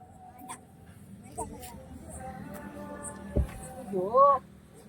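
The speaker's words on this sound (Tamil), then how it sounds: "நாய் ரொம்ப பண்ணுது இன்னைக்கு." A dog gives a few faint, scattered yips, then a short rising whimper near the end, against a low background murmur of people talking.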